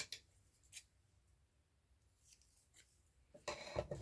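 Short snips of scissors cutting wrapping paper, a couple of light clips early on, then a louder, busier burst of cutting at the end.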